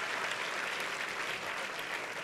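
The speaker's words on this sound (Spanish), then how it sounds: "dele, dele, dele ese aplauso a su Padre" Applause from a church congregation during a sermon by a pastor, a steady wash of clapping held at an even, moderate level throughout, with no voice rising above it.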